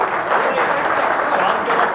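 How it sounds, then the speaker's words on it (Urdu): Loud, dense audience applause fills the whole two seconds at a poetry recital in Indore, steady clapping from a large crowd with no break. "دوبارہ ایک بار زوردار تالی بجائیں"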